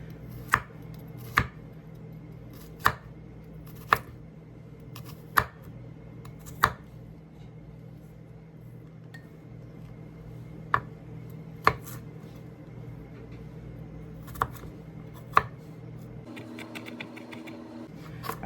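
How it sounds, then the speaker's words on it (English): Knife chopping garlic into a paste on a cutting board: sharp, evenly spaced taps close by, about a dozen strikes with irregular gaps, over a faint steady background hum. "So instead of me just like mincing my garlic, I'm going to make a paste out of it."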